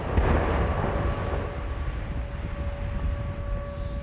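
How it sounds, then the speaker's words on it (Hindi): A deep, rumbling blast from a gold mine in Tanzania rolls out and lingers as a low, heavy roar, fading slowly over several seconds with no voices. "यहाँ हर दिन विस्फोट किए जाते हैं।"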